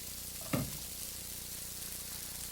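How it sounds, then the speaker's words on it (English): Garlic sautéing in olive oil in a pan gives a steady soft sizzle, close by, with a single clatter early on and a brief knock at the end. "All right, we're going to saute them."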